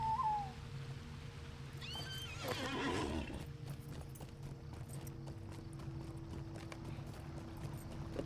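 Horse sounds in the online game The Lord of the Rings Online (LOTRO) while mounting up: a whinny, then steady quiet hoof clip-clop under a low ambient drone, with no talking.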